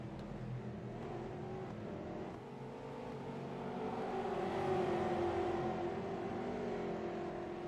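Trans Am race cars at Sebring International Raceway roar past at a distance, engine drone rising and swelling toward the end as the pack of overall leaders approaches, fairly faint and continuous.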